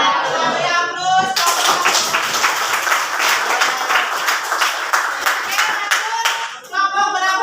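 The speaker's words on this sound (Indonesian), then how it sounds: "Beri aplaus." An audience in a school classroom breaks into loud clapping for several seconds, close and dense, with brief voices just before and after.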